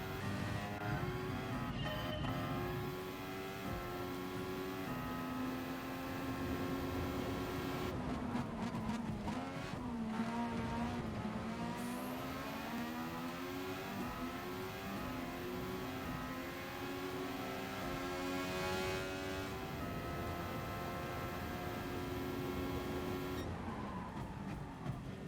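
An F1 car in Gran Turismo Sport howls through repeated high-revving acceleration and gear changes, with engine pitch sweeping up and down and brief tyre squeal, loud and continuous with no talk.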